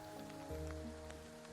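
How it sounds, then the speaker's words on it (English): Soft, light rain patters on tall pine needles in a quiet wood. The wash is faint and even, a gentle whisper with a few scattered tiny drop ticks. "So you've got soft rain on tall needles."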